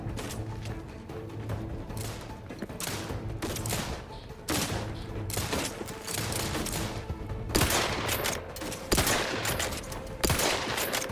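Gunfire in the video game Outer Worlds 2, rapid automatic bursts and single shots crackling in dense, uneven volleys over a low droning background, loud and continuous throughout with a faint voice at times.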